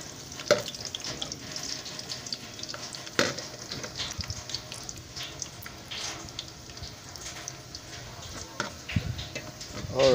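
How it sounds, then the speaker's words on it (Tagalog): Garlic sautéing in a pan for an ampalaya dish, a steady low sizzle with scattered clinks and scrapes of stirring throughout, fairly quiet and close. "Ang ating ginigisang bawang"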